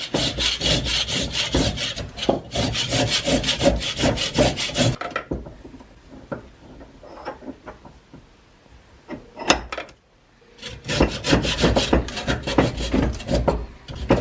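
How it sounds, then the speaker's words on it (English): A Surform file rasping wood while trimming a part for a small wooden boat build, loud rhythmic back-and-forth strokes in two bursts separated by a quieter stretch of light scraping and handling. "Just a little bit of back and forth with the rasp, and it's ready to go in."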